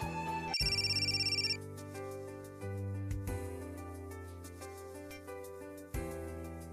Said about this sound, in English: As soon as we try to move, phone call comes in